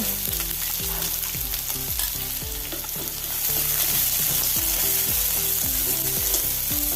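Slit green chillies and sliced onions fry in a pan with a dense, continuous sizzle. A rhythmic series of scraping stirs runs throughout, and the frying grows slightly louder midway with no voices.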